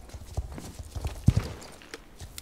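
Horse hooves clip-clop in Star Stable Online, a Jorvik primeval horse trotting in a steady, uneven patter of light thuds, with one heavier pair of hits near the middle, moderately close and without voices.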